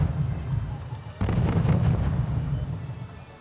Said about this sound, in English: With my mortars I still continue to harass the enemy. I shoot a bit where I can in the forest